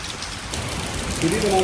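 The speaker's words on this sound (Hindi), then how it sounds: "पर बरखा हो रही है झमाझम, बहुत ही भयंकर" Heavy rain pours down in China in a dense, continuous hiss, growing slightly louder, with a brief tonal voice or siren-like sound rising near the end.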